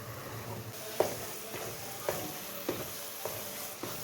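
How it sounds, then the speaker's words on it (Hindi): Grated carrots for gajar halwa fry in oil in a pan, a constant sizzling hiss broken by several sharp spoon clinks and scrapes against the pan at irregular intervals, close up with no talking. "देखें गाजरें हमारी अच्छी से भून गई है"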